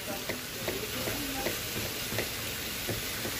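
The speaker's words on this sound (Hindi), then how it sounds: "और यहाँ पर हमारी कटल फ्राई होने हो ही जा रही है।" Cutlets fry in a home kitchen pan, a steady soft sizzle with faint crackles and occasional light clicks of stirring throughout, moderately close and without talk.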